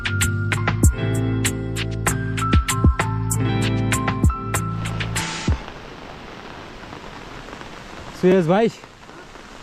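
Rain falls during a Madhyamaheshwar pilgrimage trek as a soft, even hiss. It follows a stretch of bright, ringing tonal notes, and a brief voice cuts in near the end.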